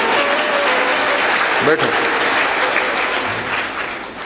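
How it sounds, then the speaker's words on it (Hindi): A seated audience at a spiritual discourse claps in a dense, steady stretch of applause, with a voice speaking briefly over it. "ताली बजाओ में कौन परेशानी है?"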